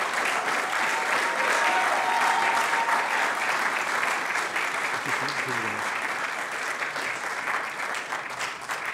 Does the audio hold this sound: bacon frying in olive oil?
no